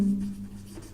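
Marker or chalk scratches on a board during a chemistry class, a brief soft writing stroke heard over a steady electrical hum.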